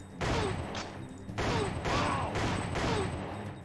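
Enemy gunfire in the Time Crisis arcade shooter, bursts of rapid shots in three clustered volleys with brief gaps between, loud and close, with faint game voice underneath.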